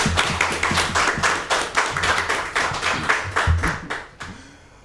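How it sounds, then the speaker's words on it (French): Close, dense hand clapping from an audience at a game show, loud and rhythmic, fading out toward the end. "On applaudit quand même, encouragement."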